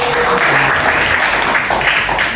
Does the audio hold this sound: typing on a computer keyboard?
no